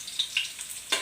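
Garlic frying in hot oil, a brief burst of crackling sizzle with a few sharp pops and a louder flare near the end.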